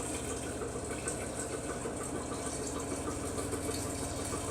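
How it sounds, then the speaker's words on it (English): Sweet tea liquid is poured slowly through a sugar-coated funnel, a steady continuous rushing pour with broad, even noise throughout and no talking. "we're going to slowly pour this in and rinse the sugar off the funnel"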